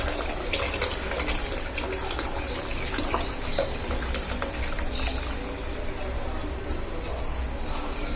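Thin flour batter mixed with water, for koozh vathal, pours steadily into boiling water, a soft continuous rushing and bubbling sound that stays fairly quiet and even throughout.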